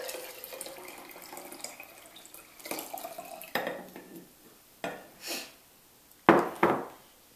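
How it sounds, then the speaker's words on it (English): Boiling water poured into a glass jar for borax crystal making, heard as a soft running trickle that builds, followed by a few clinking knocks of glass near the end. "the first thing you're going to do is pour your water, your boiling water,"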